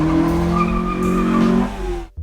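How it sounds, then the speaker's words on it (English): A car engine revs loudly close behind a stopped vehicle in traffic, a sustained harmonic roar with a sharp cutoff near the end. "Got a guy revving his engine behind me."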